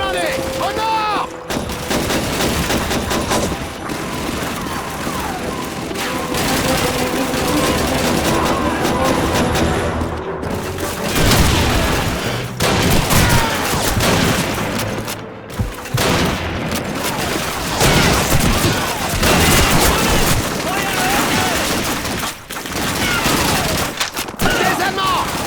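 An MG42 machine gun rattles in sustained bursts during a loud Call of Duty 2 street battle, mixed with other gunfire and explosions, while soldiers shout in French through the chaos.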